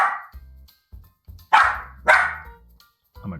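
A puppy barks and yips in a few sharp, loud bursts, with short whines between them and a low background hum.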